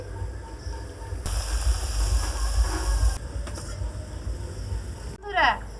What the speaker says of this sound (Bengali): আমার লুচি ভাজা হয়ে গেল এটাই শেষ লুচি